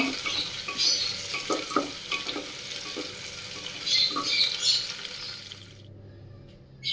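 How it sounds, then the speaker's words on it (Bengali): Onions and green chilies fry in a wok with a steady crackling sizzle, broken by scraping stir strokes, before the sound cuts out near the end. "পেঁয়াজ আর কাঁচা লঙ্কাটা আমি লাল করে নেব"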